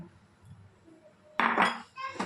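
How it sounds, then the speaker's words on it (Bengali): Stirring kheer with puffed rice flour in a pot, a utensil scraping and clinking against the metal in a short burst of several loud scrapes after a quiet, faintly murmuring start. "এবার এটাকে ভালো করে নাড়াচাড়া করে তারপরে একটু এলাচের গুঁড়ো দিয়ে দিলাম।"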